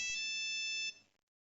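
A phone alert ringtone from a trading messaging app sounds as one clear, bright, steady electronic tone, alone, then cuts off and fades quickly into silence.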